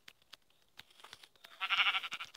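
Sheep bleating in a video game, a short burst of bleats rising after scattered quieter clicks, fairly close and alone without talk.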